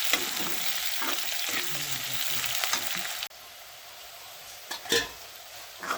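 Onions frying in oil in a kerahi, a steady sizzle with stirring clatter that drops abruptly to a quieter hiss, followed by a few sharp utensil knocks.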